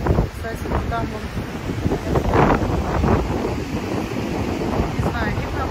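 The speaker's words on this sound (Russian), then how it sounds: "Смотрите, какое море. Волнуется." On the Djerba coast in Tunisia, loud gusting wind roars across the microphone over churning storm waves, a continuous rough wash with a voice speaking briefly through it.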